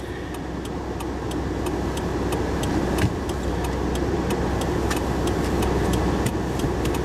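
Steady low engine and road rumble fills the cabin of a car at night, loud and constant, with a faint regular ticking running through it and one brief knock near the middle.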